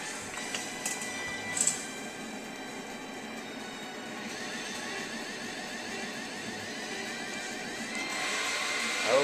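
Race car engines in the Gadget Racers video game, several engines droning and whining together in a continuous mechanical roar that grows louder toward the end, with a brief sharp accent early on.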